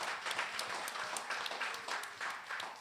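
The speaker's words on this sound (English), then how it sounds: "clap for the fathers" Comedy club audience applauding steadily throughout, a dense wash of many hands clapping at moderate distance with no talk over it.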